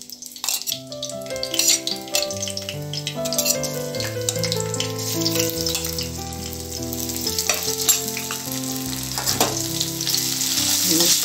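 Green chili, ginger and garlic sauté in a hot pan with a continuous close sizzle and crackle, under steady melodic background music.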